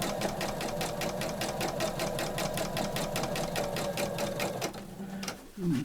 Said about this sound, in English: then just keep stitching around